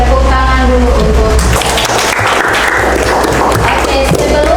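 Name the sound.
classroom applause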